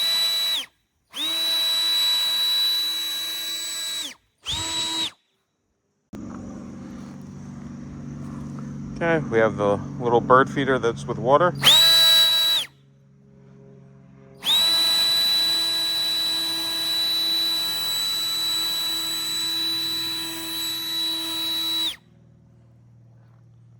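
DOZAWA cordless handheld turbo jet leaf blower, rated 130,000 RPM, running outdoors near a bush in several loud steady high-pitched bursts with short pauses, a person talking in between.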